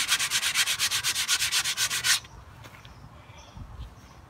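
Rhythmic scraping strokes, about twenty steady rasps of a hand blade shaving a wooden bow stave for an Algonquin flatbow, close and loud, stopping abruptly halfway, followed by quiet handling noises.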